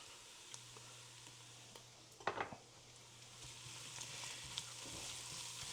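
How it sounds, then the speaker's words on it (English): Garlic sizzling faintly in a pan for a chuck roast ragu, a steady soft hiss broken by a brief clatter of stirring against the pot. "So I'm going to add in this garlic, stir it around."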